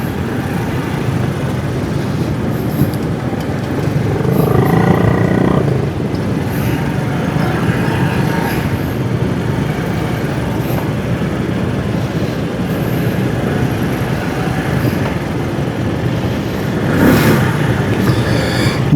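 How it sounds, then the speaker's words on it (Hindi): Steady road traffic in a jammed street near an elevated bridge and U-turn on Karachi's Green Line project, a continuous broadband rumble of idling and creeping vehicles with passing engines swelling briefly, no voices. "बहुत ज़्यादा ट्रैफिक जाम है आगे"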